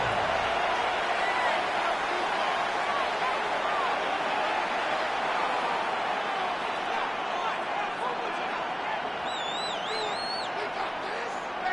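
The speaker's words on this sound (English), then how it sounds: "this crowd urging on their defense. They're up and making noise" Football stadium crowd making noise on third down in an NFL game, a broad, sustained roar that stays steady throughout, heard from a distance with a commentator talking over it.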